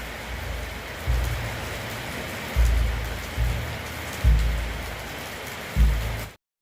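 Steady rain falls outdoors by a rural plot of crops. A loud, constant hiss is broken by several low thumps and rumbles, then cuts off abruptly at the end.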